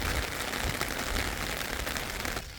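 Dense, steady rain patters and hisses on surfaces all around in mountainous Czech Republic, continuous and close, with no voices.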